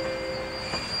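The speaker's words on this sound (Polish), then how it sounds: "TLK Wybrzeże podstawia się na tor 6 przy peronie 5." TLK Wybrzeże passenger train pulling into the platform at Warszawa Zachodnia station, with a steady metallic squeal of wheels and a low rolling hum heard close by and continuous throughout.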